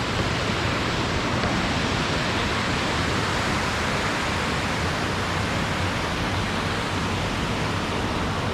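Steady, broadband rushing of a waterfall in a park ravine, a dense unbroken roar with no distinct splashes, heard continuously at moderate loudness without voices.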